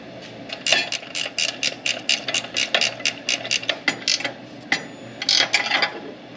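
A hand ratchet tightens the bolts on a Jeep Wrangler rock slider, giving off quick rapid bursts of clicking in several runs with short pauses between them, near and distinct.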